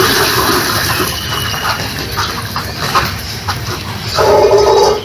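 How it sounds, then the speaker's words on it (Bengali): Hot water pours into a bucket holding a turtle, its lid weighted with a stone, in a village setting: a close, loud, continuous rushing splash that swells stronger near the end. "এভাবে গরম জলটা দিতে হবে।"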